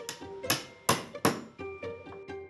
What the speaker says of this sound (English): I'm using a router for speed and a hammer and chisel for finesse to carve out corners from each leg